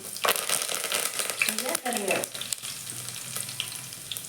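Tomato and chili frying in oil in a home kitchen, a steady close sizzle with stirring scrapes and crackles, with a voice speaking briefly over it.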